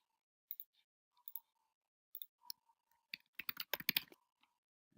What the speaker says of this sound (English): I'm going to type Mooney Vision at the bottom.